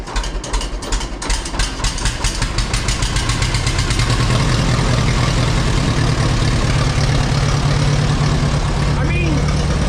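A 1952 Allis Chalmers WD tractor engine cranks unevenly at first, then catches and settles into a steady, loud low idle that runs on continuously nearby.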